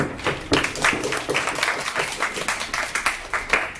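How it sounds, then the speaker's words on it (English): Applause from an audience at a cultural presentation on Poland, fairly loud and sustained clapping from a small group with individual claps standing out in an uneven rhythm. "round of applause for May."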